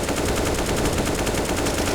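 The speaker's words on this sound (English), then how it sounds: "Poss in a firefight here" Rapid automatic gunfire in a video game firefight, dense, loud bursts of shots rattling in quick rhythm for the whole two seconds with no talk.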